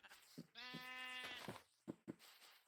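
A Minecraft sheep gives one long, quavering bleat, framed by soft clicks and small game sounds.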